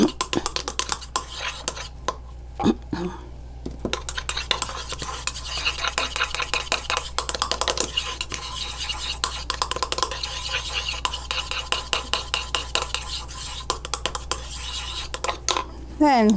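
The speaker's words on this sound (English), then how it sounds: "So remember, for each addition you mix very well." Aloe vera lotion ingredients are mixed in a container, with repeated soft scraping, clinking and rubbing strokes of a utensil, close and quiet, with a few brief faint voice sounds.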